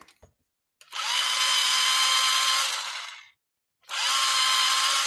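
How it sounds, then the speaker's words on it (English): Electric pencil sharpener grinding an apple green Prismacolor colored pencil, two loud whirring bursts separated by a short silence, the first lasting about two seconds. "I'm using apple green Prismacolor. I need to sharpen it though."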